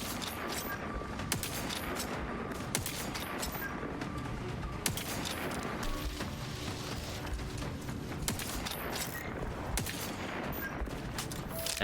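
Gunshots in the video game Outer Worlds 2, scattered sharp reports fired at intervals over busy, constant combat noise and game sound effects, with no talking.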